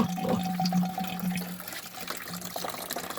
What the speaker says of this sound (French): ça fait un bruit de chasse d'eau là-dedans